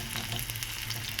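Dried red chillies fry in a pan with a steady, close sizzling hiss, brief and even in loudness.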